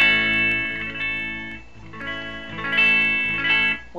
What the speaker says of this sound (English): you can hear that's pretty clean on the neck pickup